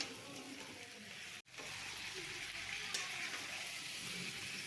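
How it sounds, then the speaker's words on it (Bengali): Potato and squash frying in oil in a pan, a steady soft sizzle with a faint hiss running throughout, a brief cut-out about a third of the way in, no voices. "আলু এবং স্কোয়াচটা ভালোভাবে কষিয়ে নিতে হবে যতক্ষণ না পর্যন্ত তেল না ছেড়ে আসে"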